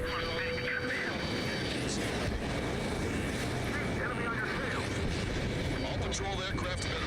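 A patrol aircraft from the Ace Combat 7 combat-flight game, heard as a steady, loud airplane engine drone that runs throughout, with voices speaking over it.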